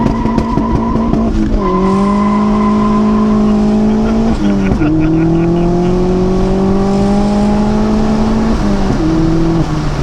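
Vauxhall Astra VXR launching from a standstill with the handbrake released, its engine note climbing loudly and steadily across three rising gear pulls, close and continuous.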